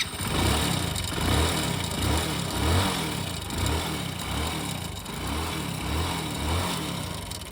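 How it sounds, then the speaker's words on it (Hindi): A Hero HF Deluxe motorcycle engine idles steadily with a low, even thumping pulse, close up and with no talk. "बाइक जो स्टार्ट हो चुकी है"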